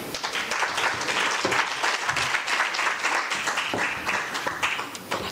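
Audience applause for a presenter at the close of a talk at an academic conference, dense sustained clapping filling the room evenly from start to finish without pause.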